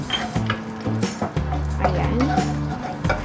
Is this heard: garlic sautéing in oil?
yes